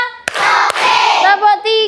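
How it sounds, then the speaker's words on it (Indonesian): A school class does a rhythmic focus clap: two sharp, loud claps stand out among children's voices chanting together in a classroom. "kita tepuk fokus dulu. Tepuk 1, tepuk 2,"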